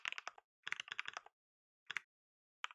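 Fingers type on a computer keyboard in quick, close clusters of clicky keystrokes, separated by short silent pauses and ending with a few single taps.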